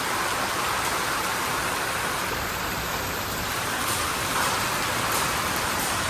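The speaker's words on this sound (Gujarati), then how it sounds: "આજના દિવસે તો ફરીવાર વરસાદની ધમાકેદાર એન્ટ્રી થઈ ગઈ છે." Heavy rain falling on a village during a summer thunderstorm, a dense, steady hiss of downpour with no breaks and a faint drone partway through.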